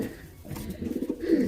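A racing pigeon coos softly in its loft, low throaty rolling calls building toward the end, close and fairly quiet with no talk over them.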